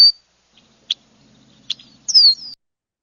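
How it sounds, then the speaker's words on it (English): A red-winged blackbird gives a few short, sharp call notes and then a buzzy trilled conk-la-ree song, clear and isolated against a quiet background. "Red-winged Blackbird, the song, the conqueree, and I think this might also have the C notes in the same recording"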